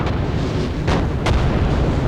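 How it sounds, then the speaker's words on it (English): Artillery pounding an infantry line in Napoleon Total War: a continuous low rumble of battle carries two sharper booms in quick succession over about two seconds. "And artillery keep pounding this part of the line."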